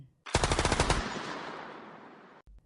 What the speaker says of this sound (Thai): เสียงปืนก็ดังขึ้นมาอย่างฉับพลัน